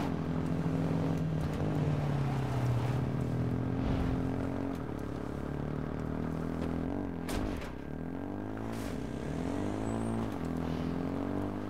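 A video game car engine drones steadily with shifting pitch, rising and falling as the vehicle revs and moves, close and fairly loud with no talk over it.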